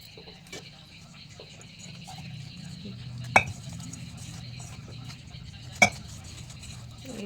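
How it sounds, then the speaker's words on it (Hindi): An iron tawa griddle is set down on a home kitchen stove, giving two sharp metallic clanks a few seconds apart over a low steady background hum. "और ये रख दिया मैंने तवा"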